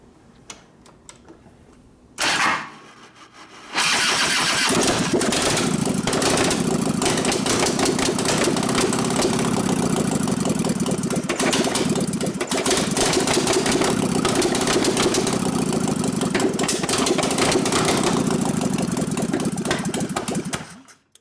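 A 1989 Harley-Davidson panhead with a 93ci stroker motor in a Softail cranks briefly, then fires and settles into a loud, steady, lumpy idle that runs close and continuous to the end with no talk over it.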